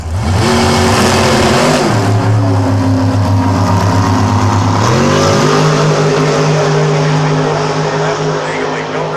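NHRA drag racing cars in a national event final round roar loudly and continuously, engine pitch climbing in stepped bursts as they accelerate down the strip, with announcer talk over the top.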